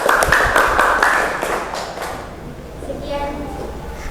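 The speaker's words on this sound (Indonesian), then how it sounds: "Berikan tepuk tangan." Short burst of hand clapping from a classroom audience after a poem reading in an Indonesian teaching session, fading after about two seconds into quieter room sounds and a voice.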